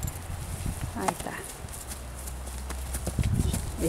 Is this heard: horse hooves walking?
yes